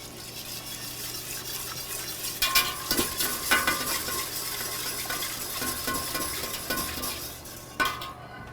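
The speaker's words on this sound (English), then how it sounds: "we're going to add the rest of our milk" Milk is poured into a thickening bechamel sauce and stirred in a pan, a soft steady sizzle with scraping and clinking of a utensil against the pot, close and without talk.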